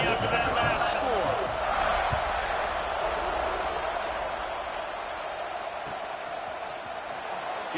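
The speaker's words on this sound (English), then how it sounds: "this crowd is buzzing after that last score" Stadium crowd in the NCAA 26 college football video game, a steady broad roar that stays loud and even, with a couple of sharp knocks near the start.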